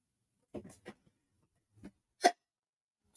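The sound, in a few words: hiccup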